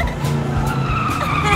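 A car sound effect plays loud and close, with a skidding, squealing engine whine and racing tones sustained throughout.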